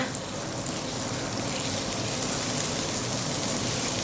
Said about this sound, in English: It's immediately going to start sizzling.